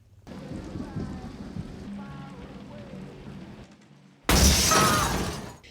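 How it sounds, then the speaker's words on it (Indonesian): A fierce storm with heavy rain roars steadily, then a sudden louder crash of downpour and wind breaks in, with muffled voices underneath. "Badai di luar sudah semakin ganas."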